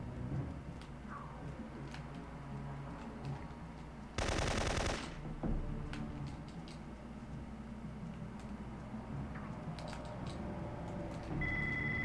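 Gunfire rattles in the video game Syphon Filter 3, with one loud, dense burst of shots about a second long standing out over a busy background of game noise and music.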